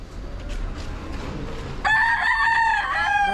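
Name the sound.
Sweater Kelso bloodline gamecock rooster crowing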